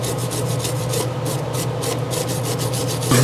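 Electrical connections on a 1963 Chevy C10 are scrubbed clean, making a steady close rasping rub in quick repeated strokes, ending in a brief louder knock.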